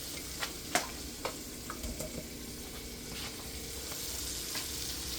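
Food cooks in a pan with a low, steady sizzle, broken early on by a few sharp clicks and taps from utensils.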